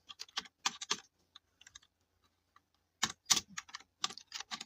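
Computer keyboard typing while coding in Python: close, crisp bursts of rapid keystrokes, a quieter stretch of sparse taps in the middle, then another dense flurry of typing, with no talking.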